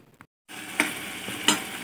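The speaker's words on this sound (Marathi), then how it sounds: "मेथीचे बॉल तेलामध्ये घालून आपण मसाले आणि बॉल एक दोन मिनटं तेलामध्ये परतवून घेऊ" Methi kofta balls fry and sizzle in hot oil with masala, a close, steady crackling hiss punctuated by two sharp stirring scrapes, with no talking.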